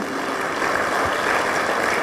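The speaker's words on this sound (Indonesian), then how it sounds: "tepuk tangan untuk Tuhan" Church congregation applauding, a dense, even patter of many hands clapping together for about two seconds, loud and close without any voices.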